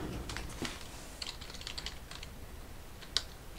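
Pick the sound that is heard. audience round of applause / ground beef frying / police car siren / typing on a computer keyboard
typing on a computer keyboard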